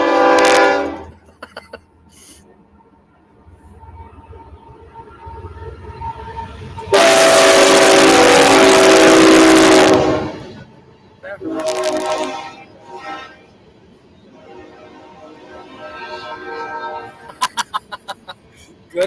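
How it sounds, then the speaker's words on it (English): A train roars by with a long, loud horn blast lasting several seconds, between quieter stretches of rumbling and distant voices. "Guess what? A train."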